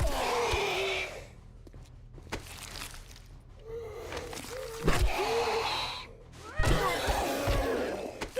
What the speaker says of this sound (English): I'm not sure that you should be breathing, dude. You are a zombie after all.